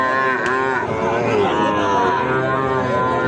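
Sahiwal bull calves at a rural cattle market low loudly and close by, one drawn-out moo filling the whole stretch over a busy background.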